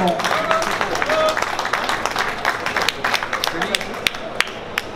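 An audience at the opening ceremony of an international fair claps, a busy wash of hands that thins toward the end into a few louder, distinct claps, with voices underneath.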